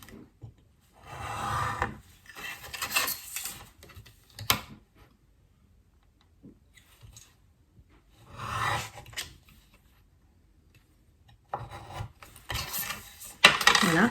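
Cutting out a card triangle for a 3D frame card produces close, scratchy rubbing and scraping bursts separated by quiet gaps, with a few sharp clicks.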